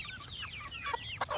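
Welsummer rooster with other chickens clucking close by, a steady run of short clucks and chatter rising to a few louder calls near the end, no talk.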